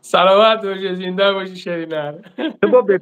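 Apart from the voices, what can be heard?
None of the usual background noises is heard.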